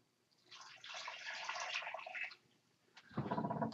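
About one and a half cups of water are poured into a cooking pot for mango BBQ pulled pork, in a splashing pour of about two seconds and then a second, heavier pour.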